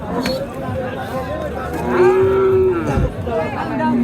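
Cows moo loudly and up close at a rural cattle market in Naogaon, Bangladesh, with one long drawn-out call over a steady hubbub of crowd chatter and nearby voices.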